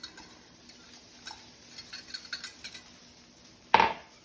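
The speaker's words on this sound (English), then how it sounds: "We're just whisking this together." A whisk ticking and scraping against a bowl while mixing buttermilk batter for corn fritters, faint light clicks in quick irregular bursts, ending with one louder clink.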